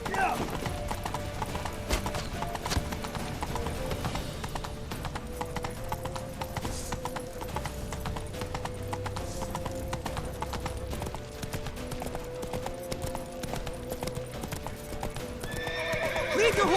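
Steady clip-clopping hooves of a galloping horse in the video game The Witcher 3: Wild Hunt run throughout, mixed with music and occasional shouting voices.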